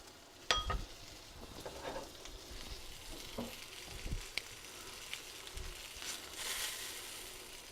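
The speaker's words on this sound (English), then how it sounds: "We want to be able to cook this wine off. We want to get rid of the alcohol. We'll let that reduce." Wine reduces in a pot for beef stew, a soft continuous sizzle and bubbling with occasional stirring clinks and scrapes, close but quiet, with no talk.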